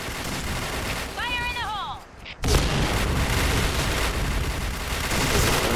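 AK-47 fire in a video game, a loud continuous burst of shots starting abruptly after a short pause, preceded by chirpy game sounds and a voice talking.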